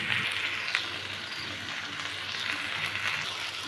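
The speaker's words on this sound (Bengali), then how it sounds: "আদা রসুনের পেস্টটা বেশ সুন্দরভাবে আমি ভেজে নিয়েছি" Ginger garlic paste fries in a pan with a soft, continuous sizzling hiss, close and even, with no talking.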